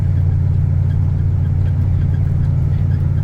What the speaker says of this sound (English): I don't know if you're going to be able to hear this exhaust, but God, does it sound nice.